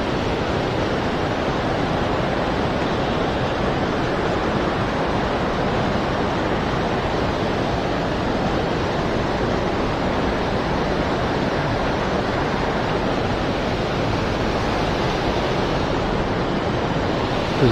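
Fast water of the Fox River rushing steadily in a loud, continuous broadband roar, close by, with no talking.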